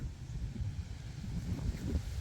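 Gusty wind rising ahead of a rainstorm in a rural Thai village, a steady low rushing roar that swells and buffets close to the microphone, with no voices.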